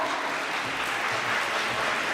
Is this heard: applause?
yes